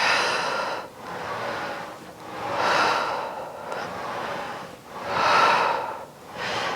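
Slow, audible breaths during a Pilates reformer lower-body workout: three long airy exhales swelling and fading between quieter inhales, close and steady with no talk.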